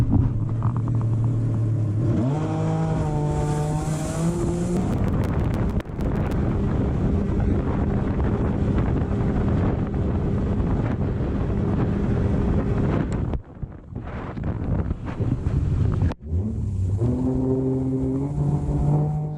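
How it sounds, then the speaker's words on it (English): A 2022 Yamaha JetBlaster jet ski roars at full throttle on a top speed run, engine pitch climbing through a couple of shifts over loud wind buffeting, briefly cutting out before revving up again. "time for the top speed run here on the JetBlaster"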